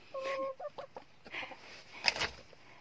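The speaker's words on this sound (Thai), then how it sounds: "ไม่มีอะไรทำเพื่อนๆมานั่งดูไก่กิน" Chickens clucking softly in a cold outdoor yard while feeding on apples and vegetables, with short scattered calls and pecking sounds, fairly faint and close, without talk.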